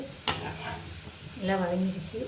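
Food sautés in a pan with a soft, continuous sizzle, a sharp clack early on and a brief vocal sound near the end, all fairly quiet and close.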